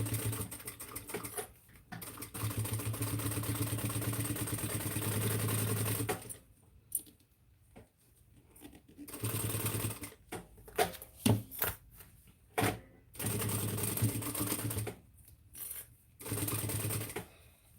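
Sewing machine bastes backpack fabric together in rapid bursts of stitching, a close, fast rhythmic whir running for a few seconds at a time, broken by quiet pauses and small clicks.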